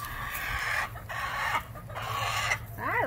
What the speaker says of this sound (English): That goes to the chickens.